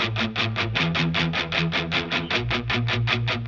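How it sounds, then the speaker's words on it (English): Distorted electric guitar chugging steady chords in a driving rhythm for a rock cover, loud and up front with a gritty, saturated natural amp distortion tone. "one of them was just the amp's natural distortion."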